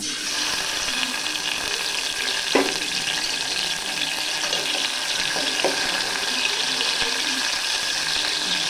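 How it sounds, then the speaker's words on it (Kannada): Finely chopped tomatoes fry in hot oil for potato kurma, a steady loud hiss and sizzle with a few soft stirring knocks, no talk. "ಈ ಥರ ಟೊಮೆಟೊ ಎಣ್ಣೆಯಲ್ಲಿ ಸರಿಯಾಗಿ ಬೇಯಿಸ್ಕೊಳ್ಬೇಕು"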